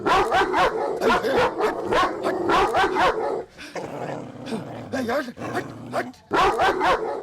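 A dog in a Hindi film scene barks and growls in rapid, loud bursts, pausing briefly before another close flurry of barking.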